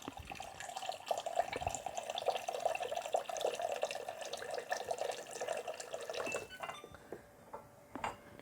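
Water pours steadily into a pot of loquats with a bubbling splash close by, then thins to a few drips and trickles as it stops.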